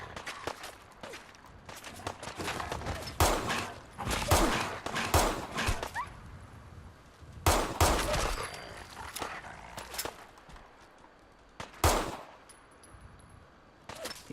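Scattered gunshots in the modded survival game Fallout 4, with sharp reports in uneven bursts, some loud and close, spread across a quiet stretch with faint background noise.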